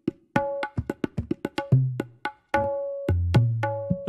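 A tuned kendang hand drum for dangdut is struck alone in a quick rhythmic sequence, crisp high slaps mixed with deep resonant bass tones that ring and bend briefly.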